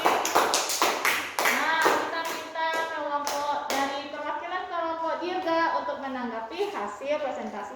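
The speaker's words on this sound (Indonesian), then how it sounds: "Beri tepuk tangan untuk kelompok Bibi" A class of students claps for a student group, a burst of brisk, uneven applause at the start that fades out, followed by someone speaking.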